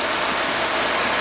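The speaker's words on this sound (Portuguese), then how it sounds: "Só escuta o barulho do motor." A VW Santana with an AP engine idles after a basic tune-up, a steady close broadband mechanical hum with no voices.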